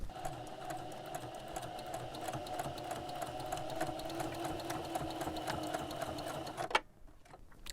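A sewing machine runs steadily while top stitching the side seam of a custom smock apron, a continuous close mechanical whir that stops abruptly near the end.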